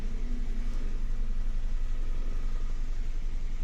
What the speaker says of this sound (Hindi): गाड़ी का साउंड आप लोगों ने देख लिया, मज़ेदार सा साउंड।